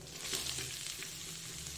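Continuous loud sizzling and crackling as chicken for chicken patties hits half-fried onions in hot oil, with faint stirring scrapes.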